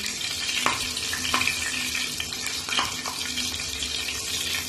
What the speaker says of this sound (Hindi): मैं फ्राई कर लूंगी इस तरह से